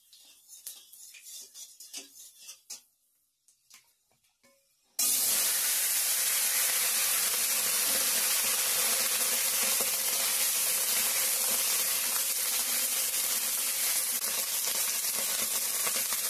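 Onion stalks and potato hit hot oil with panch phoron in a pan and burst into a loud, steady sizzle after a few quiet seconds of soft clinks.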